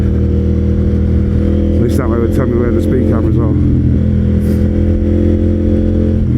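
A KTM Duke 890 GP motorcycle with a full Akrapovic exhaust system, baffle removed, running on the road. Its loud, close engine drone holds steady throughout while someone talks over it.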